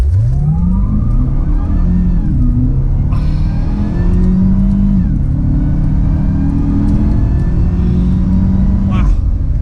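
A Cadillac CTS-V launches hard, its engine note sweeping upward through several gear changes with a deep, loud rumble heard from inside the car, steady road noise underneath.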